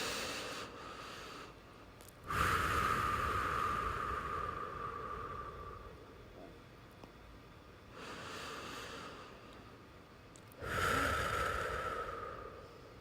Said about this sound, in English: Let's take some deep breaths together. Inhaling through the nose and exhaling through the mouth.